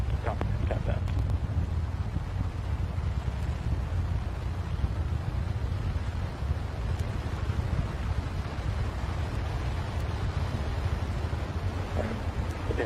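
NASA SLS core stage rocket engines fire during a hot fire test, a steady, dense, distant roar that holds without break under faint radio-style talk.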